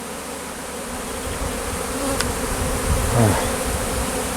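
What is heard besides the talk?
swarm of honey bees entering a hive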